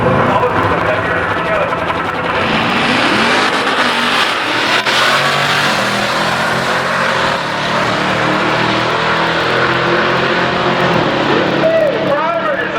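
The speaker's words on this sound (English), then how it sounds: "Hellcat power, 700 on street tires." A Dodge Hellcat with about 700 horsepower on street tires drag races at a street-car drag event, loud engine roar and revving blending with other cars and a busy crowd-like background throughout.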